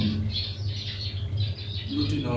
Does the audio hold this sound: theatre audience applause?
no